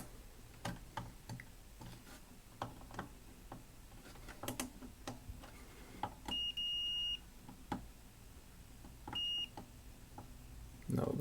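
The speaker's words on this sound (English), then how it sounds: "let's put this on the continuity tester and just see if the outputs are shorted" A continuity tester gives a couple of short electronic beeps while its probes test the outputs of a Marantz PM-50 amplifier, among faint scattered clicks and taps from the probes in a quiet room.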